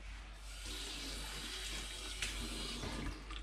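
A kitchen tap runs steadily while baking a lemon and poppy seed traybake, a faint continuous rush of water with small clinks near the end.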